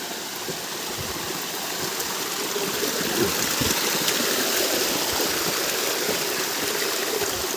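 Steady rushing of a flowing stream runs throughout, an even broadband wash of water that stays constant and fairly close, with no talking.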